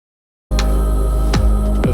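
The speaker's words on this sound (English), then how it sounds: "The only other thing in the second verse that I've got are these reverse snare hits" Reverse snare hits, soloed from a song production, rise out of silence as swelling, swooshing builds that each end in a sharp cutoff, three in quick succession.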